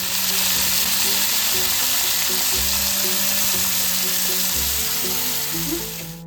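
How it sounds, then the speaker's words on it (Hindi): Aloo gobhi matar sabzi of potato, cauliflower and peas frying in a hot pan, a steady close sizzle with occasional stirring scrapes throughout, no talking. "मेरी मॉम सब्ज़ी बना रहे हैं एंड हम बना रहे हैं आज आलू गोभी मटर"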